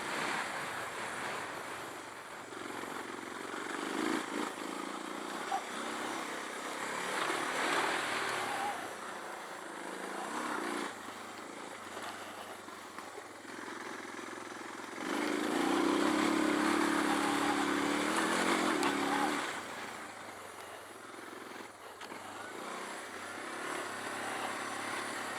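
A stock Suzuki DR650 motorcycle engine drones on a dirt trail at Metcalf Motorcycle Park, its pitch shifting with gear changes and swelling louder midway, heard through heavy wind buffeting on the microphone.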